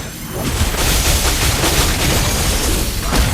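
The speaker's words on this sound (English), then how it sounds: "You destroyed the turret." A turret blowing up in a video game gives a loud, sustained explosive roar with crackling bursts that fills the whole moment, with no talk over it.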